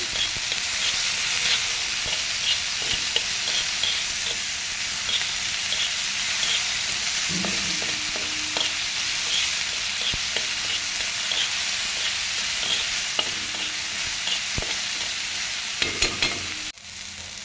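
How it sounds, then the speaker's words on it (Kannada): Tomato and onion frying in oil in a pan for a spicy chutney, a steady close sizzle throughout with occasional stirring scrapes and no talk. "ಅಷ್ಟೇ ಹಾಕ್ಬಿಟ್ಟು ಚೆನ್ನಾಗಿ ಹಸಿ ವಾಸನೆ ಹೋಗೋವರೆಗೂ ಇದನ್ನು ಫ್ರೈ ಮಾಡ್ಕೊಳ್ಳಿ"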